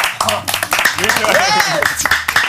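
A live stand-up comedy audience claps for an applause meter, with short bursts of hand claps breaking out between and under loud, animated talking voices.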